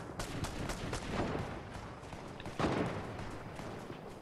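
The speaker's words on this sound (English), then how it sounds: "Firing at the house, not at anyone in particular." Gunfire aimed at a house, a sustained, somewhat distant crackle of shots with a heavier burst partway through, heard alone without voices.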